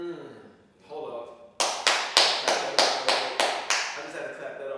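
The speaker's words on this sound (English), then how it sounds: "I just had to clap that up real quick." A single person claps hands about a dozen times in a quick, even rhythm, each clap sharp and close, after a brief stretch of quiet talking.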